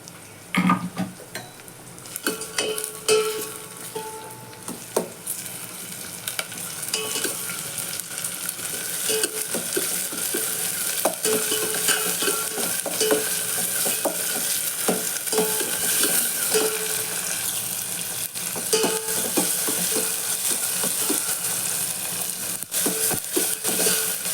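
Tomato, onion, garlic, curry leaves and coriander sauté in a pan, a steady close sizzle with repeated scraping stirs running throughout, no voices.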